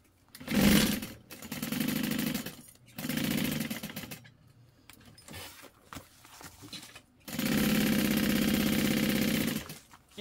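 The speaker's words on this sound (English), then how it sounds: "I'm just going to stitch this all the way closed" A sewing machine stitches a bag lining closed in several bursts of steady motor whirring, each a second or more long, separated by short pauses, with a longer final run, close and fairly loud.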